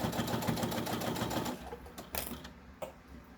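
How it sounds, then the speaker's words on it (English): A sewing machine stitches back and forth around a fabric bowl koozie, a steady rapid mechanical whir for about a second and a half, then short stop-start bursts and clicks as it pauses and pivots. "I'm going to go back and forth, giving myself a nice stitch"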